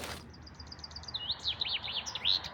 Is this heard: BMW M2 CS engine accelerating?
no